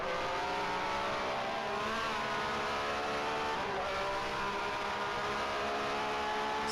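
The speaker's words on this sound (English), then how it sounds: "So two Ferraris doing battle, one blue, one red." Two 1967 Formula One Ferraris race wheel to wheel at Longford in a racing video game, their engines a loud, continuous high-revving drone with shifting pitch and no pauses.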